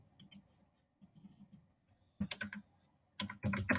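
Typing on a computer keyboard comes in short separate bursts of clicky keystrokes, close and fairly quiet, with near silence between them and a denser, louder flurry at the end.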